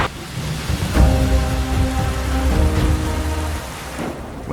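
Steady rain pours across the Serengeti plain, a loud, continuous wash of drops on the ground with low rumbling underneath and no voices.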